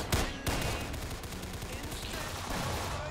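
Rapid gunfire from the online shooter game Arsenal, a dense stream of overlapping shots with a couple of sharp bursts at the start, loud and continuous throughout.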